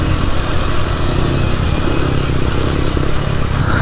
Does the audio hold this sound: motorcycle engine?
yes